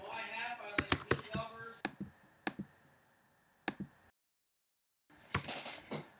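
Computer keyboard keys tapped while writing code in Xcode, a quiet irregular run of close clicks in short bursts separated by brief pauses, with a faint voice speaking.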